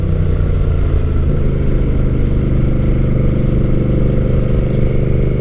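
A Honda Rebel 1100 T DCT motorcycle engine hums steadily and loud at close range throughout, with a continuous low drone and no clear revving peaks.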